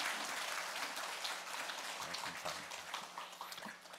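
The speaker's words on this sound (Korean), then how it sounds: "사랑과 축복의 박수 부탁드리겠습니다." A church congregation breaks into steady applause, a dense, fairly quiet patter of many hands that holds for several seconds and thins slightly toward the end.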